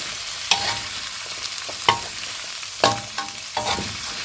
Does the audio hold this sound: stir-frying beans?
yes